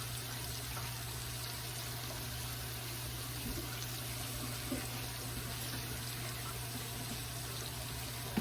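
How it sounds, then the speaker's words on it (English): Water runs steadily from a kitchen sink tap while hands are washed, a constant soft splashing hiss over a low electrical hum. "let me wash my hands"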